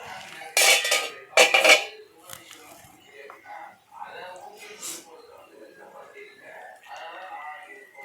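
A metal lid lifted off a pot of simmering fish curry (musal paarai fish gravy) gives two loud, close clanks in the first seconds, then people talk over quiet kitchen background.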